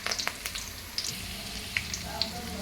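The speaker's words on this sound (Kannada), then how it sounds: "ಈಗ ಎಣ್ಣೆ ಸ್ವಲ್ಪ ಲೈಟಾಗಿ ಬಿಸಿ ಆಗಿದೆ. ಇದಕ್ಕೆ ಇವಾಗ ಸ್ವಲ್ಪ ಈರುಳ್ಳಿ ಹಾಕ್ಕೊತಿದ್ದೀನಿ" Onion and curry leaves fry in lightly heated oil for an egg sambar, giving a close, steady sizzle dotted with sharp crackling pops throughout.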